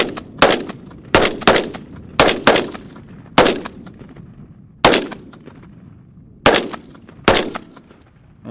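Loud rifle shots from a piston or direct-impingement AR-style rifle, fired singly and in quick two-round bursts, each crack sharp with a short decaying echo and irregular pauses between.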